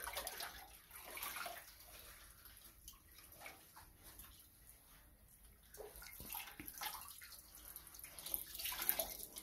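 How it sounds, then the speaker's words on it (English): A baseball uniform being rinsed in a tub of cool fresh water, soft sloshing and splashing with trickles and drips, quiet and close, swelling toward the end. "do a little fresh water rinse"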